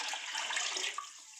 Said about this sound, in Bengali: এবার আমি এখানে জল দিয়ে দিলাম।